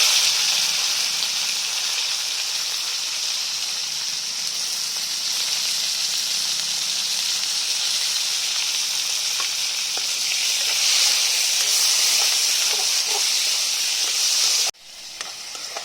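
Tomatoes frying in hot oil with panch phoron spices in a kadai, giving a loud, steady sizzle and hiss that runs unbroken for about fifteen seconds before dropping off abruptly near the end.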